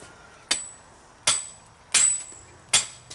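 A big hammer drives a post for a wisteria trellis, four sharp ringing blows spaced about three-quarters of a second apart, close and clear with a metallic ring after each strike.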